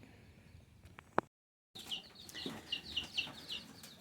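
Chicks a couple of weeks old on a small homestead farm cheep in quick high repeated peeps, faint and close, after a brief quiet gap and a few soft knocks.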